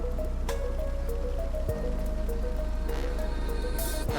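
Steady rain hisses evenly in the city-building game Endzone - A World Apart, a constant soft wash under a faint game music bed, with no talk.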